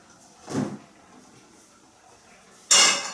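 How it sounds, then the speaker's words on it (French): A frying pan is handled on a home kitchen stove while olive oil is added. Two distinct clunks are heard, a dull one early and a sharp, bright metallic knock at the end, with quiet room tone between them. "je mets dans cette poêle un peu d'huile d'olive"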